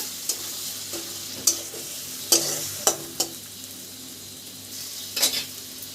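Masala with salt and turmeric frying in a pan, a soft continuous sizzle broken by several sharp spoon scrapes and clinks at irregular intervals, no talking.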